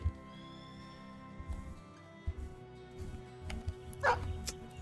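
Dog barks from the video game Battle Brothers, a few short yips over a low droning game soundtrack and ambient effects, moderately loud and spaced out rather than continuous.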